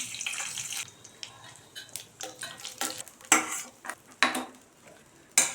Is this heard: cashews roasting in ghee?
yes